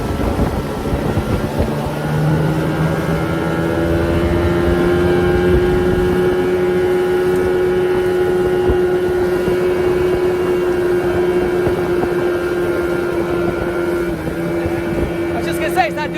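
A 1989 Yamaha Mariner 30hp outboard motor running steadily on a small boat at speed, a loud sustained drone with a slight pitch rise and wind rush throughout.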